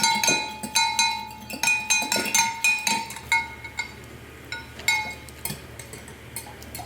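A utensil mixes fish sauce, oyster sauce, sugar and sriracha in a small dish, producing quick bright clinks in a steady rhythm that thin out and become sparse toward the end, close and clear.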